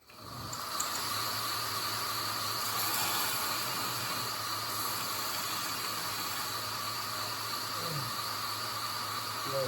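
A Rambo knife blade is sanded with 240 grit abrasive, giving a steady, continuous broadband hiss that holds level and fairly loud from just after the start to the end, with no talk.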